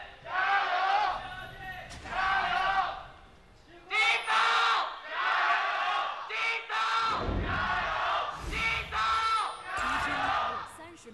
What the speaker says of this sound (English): The crowd is absolutely packed and ready for this one here to cheer on their teams